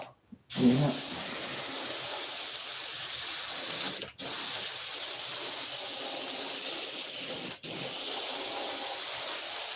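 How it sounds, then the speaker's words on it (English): Airbrush spraying paint for a light blue stripe, a loud continuous hiss that runs almost unbroken for several seconds with two brief cut-offs, nearby and without voices. "This airbrush really works good."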